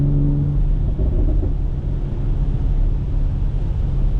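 A BMW X3M fitted with a $4000 loud aftermarket exhaust gives a steady, deep rumble that holds close and loud throughout with no talk over it.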